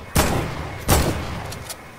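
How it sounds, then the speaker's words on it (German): Gunfire in a shooting video game: two loud, sharp reports about three quarters of a second apart, then a fainter shot near the end. "Schüsse!"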